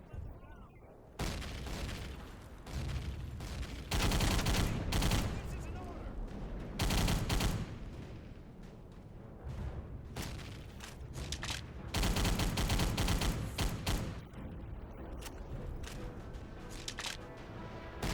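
Thompson submachine gun firing in a WWII video game set on Iwo Jima, with loud repeated bursts of automatic fire and booming battle noise nearly throughout.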